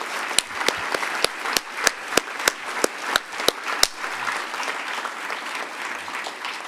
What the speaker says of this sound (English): So please give yourselves a round of applause for what you've done.